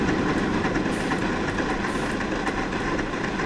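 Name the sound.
Shay steam locomotive exhaust beats in Century of Steam video game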